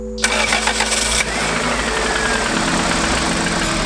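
Turbocharged Honda Civic engine cranking briefly then catching and settling into a loud, rough, close idle that keeps running steadily.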